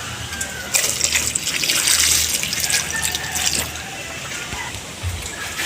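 Water poured into a cooking pot over sliced onion, tomato, ginger, kamias and long chili for pinangat: a continuous splashing, gurgling pour, close and moderately loud, swelling and easing over several seconds.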